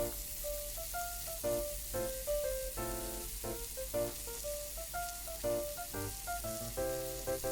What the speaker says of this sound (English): stir fry until the pork is cooked through